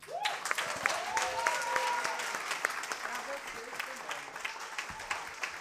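Applause breaks out in a committee session on women's rights, with clapping throughout, a voice speaking over it, and occasional laughter mixed in.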